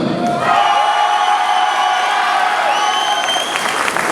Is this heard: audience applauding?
yes